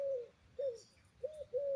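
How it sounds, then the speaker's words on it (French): A pigeon coos in soft, separate calls, four short phrases with quiet pauses between, outdoors on a Montpellier esplanade, fairly close and alone. "Ça, c'est un pigeon."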